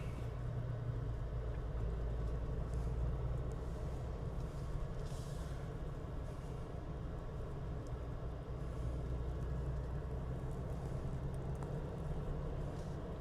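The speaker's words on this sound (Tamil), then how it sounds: "சத்தம் பார்த்திங்கன்னா ஏசி சவுண்டு" Steady broadband hum of a Jeep Wrangler Rubicon's air conditioning fan, a constant low drone with engine rumble underneath, no voices.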